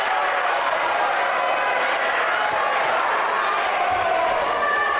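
A high school boys basketball crowd roars loudly and steadily in a gym after a foul call, a dense sustained wall of shouting and jeering throughout.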